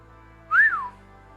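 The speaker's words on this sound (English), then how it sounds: "That was a loud whistle, wasn't it?" A single loud, clear whistle rising then falling in pitch, lasting about half a second, alone against a quiet background.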